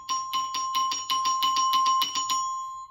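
Orchestra bells struck with a hard mallet, a run of about ten bright, ringing single strokes in steady rhythm, each note sustaining with a clear metallic tone and no rolls or double bounces, close and fairly loud.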